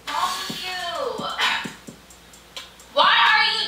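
A dog barks and yips in short bursts indoors, close to the listener, with a person talking between and over the barks.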